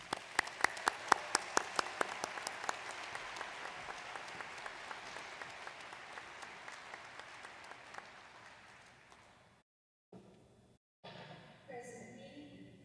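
A commencement audience of undergraduates' families and guests applauds the class of 2021, a broad wash of clapping with sharp individual claps on top that fades out after about nine seconds, then brief quieter room sound.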